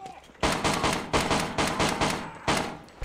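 Heavy automatic gunfire in the VR shooter Death Horizon: Reloaded bursts out in loud, rapid volleys, several long bursts separated by brief pauses.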